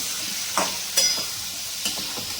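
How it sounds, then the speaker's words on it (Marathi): Masala potato curry frying in a pan, a constant soft sizzle broken by three or four brief stirring scrapes, close and without talk. "हलवून घेऊ आपण अशी चांगली सगळा मसाला लागला पाहिजे"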